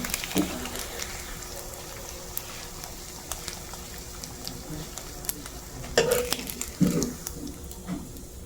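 A burger patty and two pieces of longganisa sausage fry in a pan with a steady, close crackling sizzle, broken by a few louder clattering stirs and scrapes near the end.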